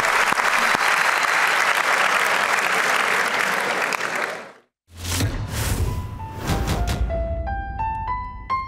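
Loud, sustained audience applause on the 2012 Turkish talent show Yetenek Sizsiniz, continuing for several seconds before a brief break, then rising musical tones with some clapping.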